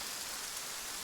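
Steady rain in the video game ArmA 3, a constant broadband hiss with no distinct drops, fairly faint and even throughout the short stretch, with no talk over it.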